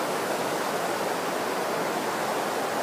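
Water flows in a waterfall or river with a steady, smooth broadband rush that holds even and continuous throughout, with no voices.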